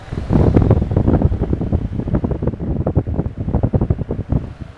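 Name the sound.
Keppe motor fan being switched on and running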